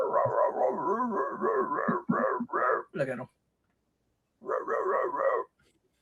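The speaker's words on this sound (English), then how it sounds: "Oh, you got him barking." A dog barks in a rapid run of repeated yaps, then a short burst after a pause, with a person speaking briefly over it.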